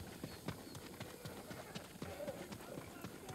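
Rapid hoofbeats clatter in an uneven galloping rhythm in the video game Ghost of Tsushima, fairly faint, with a voice briefly audible in the mix.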